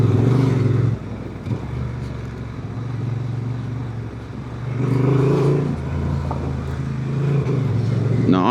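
A Honda Transalp 750 with E-Clutch rides off-road on gravel, its steady engine drone rising and falling with throttle, loud and close throughout with wind rush and a voice talking over it.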